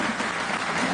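An audience on a Dabangg 2 promotional talk show claps steadily and fairly evenly, a soft continuous wash of applause with no voices.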